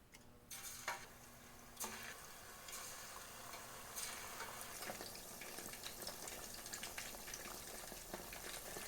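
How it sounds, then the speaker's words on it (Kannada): Marinated chicken pieces for restaurant-style chilli chicken hit hot oil in a pan and set off a steady, close sizzle. The frying holds at a moderate level throughout with no talking. "ಇನ್ನು ನಾವು ಮ್ಯಾರಿನೇಟ್ ಮಾಡಿಟ್ಟಂತ ಚಿಕನ್ ಅನ್ನು ಫ್ರೈ ಮಾಡುವ"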